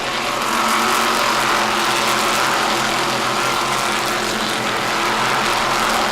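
Several race cars battle wheel to wheel for the lead at Waterford, their engines a loud, continuous roar that holds steady throughout with no talk over it.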